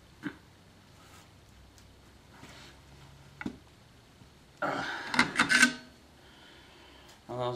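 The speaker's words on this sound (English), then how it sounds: "file and just file the fucker down" A hand file rasps against a machete handle in a short burst of gritty strokes, with scattered faint taps and knocks around it in a quiet room.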